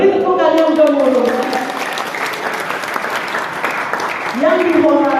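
Wedding guests applaud in a steady, dense burst of clapping that fills the whole moment, with a voice speaking over the start and again at the end.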